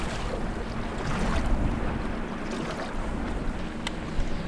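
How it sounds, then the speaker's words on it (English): A passing oyster lugger and the big waves it throws off make a steady, broad wash of water and engine rumble, mixed with wind buffeting the microphone. No one speaks. "Just had an oyster lugger pass. Boy, he's got some big waves coming."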